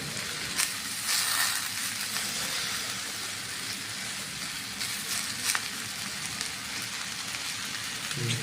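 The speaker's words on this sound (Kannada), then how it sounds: "ಈ ಥರ ಫ್ರೈ ಆಗಬೇಕು." Fenugreek leaf chicken gravy frying in a pan gives off a steady, close, dense sizzling hiss that runs unbroken throughout, with a few faint clicks and no voices.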